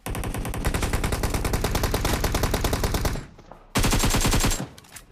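An M249 machine gun in PUBG Mobile fires long, rapid, loud automatic bursts that run for about three seconds, stop briefly, then resume with a shorter burst.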